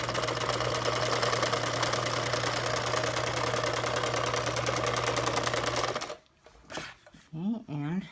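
A sewing machine stitches fabric in a fast, even mechanical chatter that runs loud and steady for about six seconds, then stops, followed by a voice speaking.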